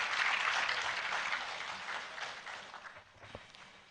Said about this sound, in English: Please, a round of applause as she comes forward.